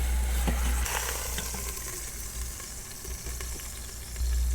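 Pork with a Memphis Commissary pork rub searing in an Instant Pot, giving a steady, close frying sizzle with a low hum and occasional crackles, no voices.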